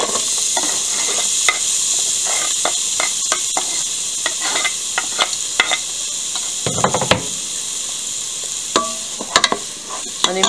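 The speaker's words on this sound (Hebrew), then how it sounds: "המכשיר כבר חם, אז אני פשוט שמה את הבצל פנימה." Onion frying in canola oil in a hot pot gives a steady, close hiss of sizzling, broken by scattered clicks and scraping stir sounds. No one speaks.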